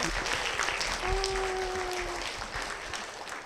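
Church congregation applauding in a Korean church service, steady dense clapping throughout with a brief sustained tone partway through.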